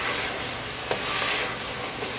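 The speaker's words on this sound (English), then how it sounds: "I have to saute these two together" Cauliflower and mushroom sauté in a pan with a steady, soft sizzle and a faint stir or two, close and alone without talk.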